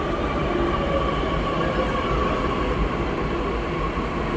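An underground metro train in Pune runs between stations, with a steady, enclosed rumble of wheels and carriage noise throughout and no voices.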